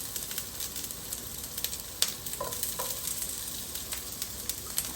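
Onions fry in oil in a pan, a busy, continuous sizzle broken by a sharp stirring clack near the middle and a few lighter scrapes, with no voices.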